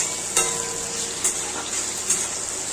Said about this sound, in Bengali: এই ফোড়নটার মধ্যে একটু টমেটো আর কয়েকটা কাঁচা লঙ্কা দিয়ে দেব